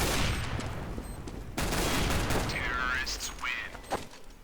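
Gunfire in a Counter-Strike match on the map Mirage, a rapid run of loud shots and bursts close by, with a commentator talking over the action.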